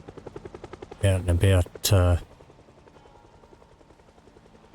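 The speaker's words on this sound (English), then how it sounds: "I've noticed the helicopter hasn't really had much effect while I'm out" A helicopter in the video game Project Zomboid drones as a steady, rhythmic rotor rumble throughout, briefly covered by a few words of close speech near the start before continuing on its own.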